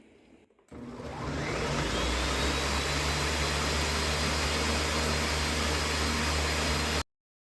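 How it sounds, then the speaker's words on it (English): A blender runs at high speed pulverizing vanilla bean paste, a loud, steady roaring whir that starts abruptly after a brief pause and cuts off sharply at the end. "pulverize this at high speed for 2 to 3 minutes until everything is uniform in consistency"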